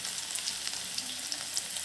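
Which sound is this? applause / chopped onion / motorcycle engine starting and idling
chopped onion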